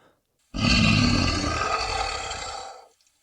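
A loud, deep monstrous dragon roar sound effect bursts out suddenly and rumbles for over two seconds before fading, alone against silence.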